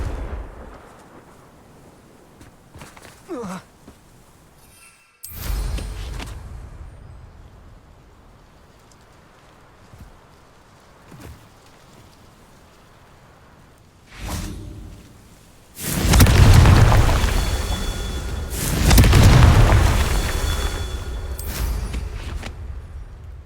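Magical spell explosions from Incendio and Confringo in Hogwarts Legacy, with whooshing casts and booming bursts. Several sharp blasts come in separate bursts, and two big loud explosions near the end.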